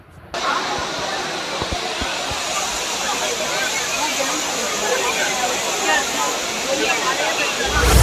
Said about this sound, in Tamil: குற்றாலம் மெயின் அருவியில் வெள்ளப்பெருக்கு ஏற்பட்டது